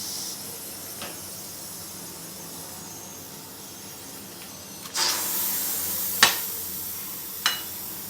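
Steam hisses out as a pressure cooker holding pumpkin sabzi is opened, a sudden broad rush close by followed by a couple of sharp spurts over a low background hiss.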